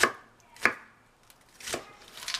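A knife chops green onion on a board in a few sparse, sharp strikes, each a crisp thud spaced about half a second apart, close and alone.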